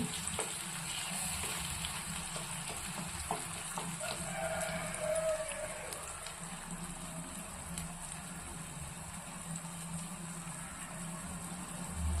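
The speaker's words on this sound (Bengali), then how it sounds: "ভাত ভালো করে কষিয়ে নেব যাতে কাঁচা গন্ধটা বেরিয়ে যায় লো ফ্লেমেই করছি" Rice being stir-fried in oil in a pan over a low flame for a koi fish dish, giving a steady soft sizzle with faint scraping stirs throughout, close and alone without talk.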